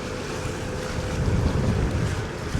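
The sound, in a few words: wind blowing over the water while kayak fishing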